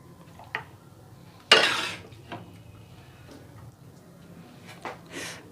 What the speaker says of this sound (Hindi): अब मैं इसको प्लेट में निकालती हूँ